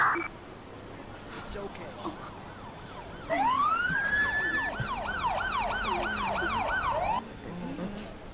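Wailing ambulance siren in the Emergency 4 911 First Response game with a retro LA mod, starting mid-clip as a rising sweep then rapid yelp cycles, loud and close over background game noise and some talk.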